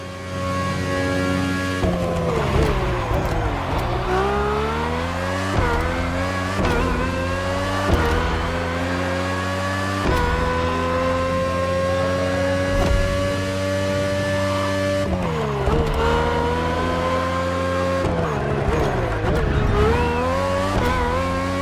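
Red Bull RB18 race car with a Honda engine in The Crew Motorfest, revving loudly and shifting through gears in repeated rising sweeps with drops between them, close and continuous with no talk over it.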